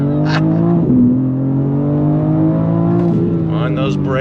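A BMW M4 CSL sports car accelerates hard on throttle, its engine note climbing steadily in a loud, sustained drone with a gear shift partway through, while someone talks excitedly over it.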